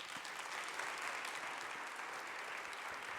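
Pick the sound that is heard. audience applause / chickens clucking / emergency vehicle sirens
audience applause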